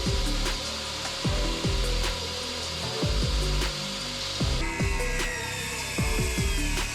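A circular saw plunges into a wooden shed shelf to cut out a slot, giving repeated short bursts of high whining cutting, each ending in a falling motor tone, spaced about a second apart, close and loud.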